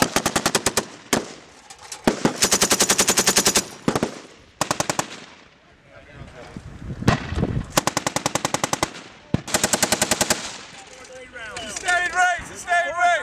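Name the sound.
machine gun fire in Marine live-fire exercise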